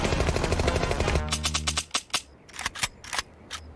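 Cartoon gunfire from the 1994 animated series The Tick opens with a dense, rapid machine-gun burst, then thins to a few scattered, sharp single shots and clicks as the firing runs out, with no voices over it.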